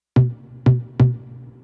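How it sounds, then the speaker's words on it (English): Three programmed drum toms from a Logic Pro step sequencer in an R&B beat, each a deep, round hit with a short reverb tail, struck evenly about half a second apart, alone and close. "I went with some toms hitting every other 4 bars"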